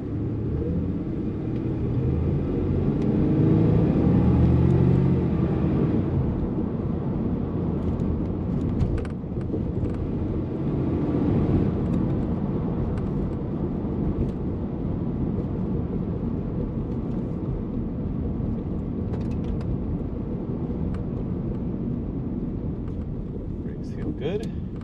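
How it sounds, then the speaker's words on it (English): An airplane taking off nearby produces a low, broad rumble that swells and then holds steady, heard from inside a moving 1987 Ford Thunderbird over its road noise, with someone talking over it. "That's an airplane taking off right there."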